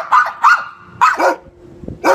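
Dogs barking in short, sharp bursts, several loud close barks spaced apart with brief gaps between them and no talking.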